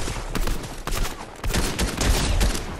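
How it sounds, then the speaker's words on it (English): Dense gunfire from many players shooting in Fortnite, rapid overlapping loud shots and bursts crackling continuously at close and middle distance, no talking. "that's a lot of people shooting"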